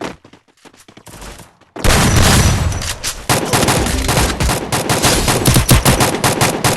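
Rapid automatic gunfire in the video game Free Fire erupts after a quiet start with scattered clicks, bursts of shots continuing loudly and densely to the end.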